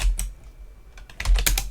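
Keys clack on a computer keyboard while shortcuts are entered in a Linux terminal, with a quick tap near the start, a pause, then a close, loud flurry of several keystrokes near the end.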